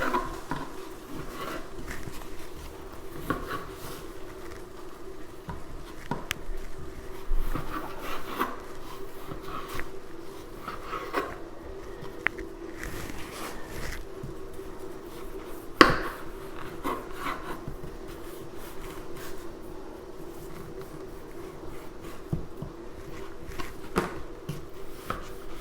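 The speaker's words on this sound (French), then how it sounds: "On coupe en petits morceaux." A knife chopping salted cod into small pieces on a board, with soft, irregular scraping and tapping cuts, fairly quiet and close, and occasional sharper knocks amid a low background hum.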